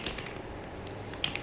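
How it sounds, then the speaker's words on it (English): Crystal Angels Oracle cards shuffled by hand, a soft, close, continuous papery riffling with a couple of sharper flicks toward the end. "Let's give it a little shuffle."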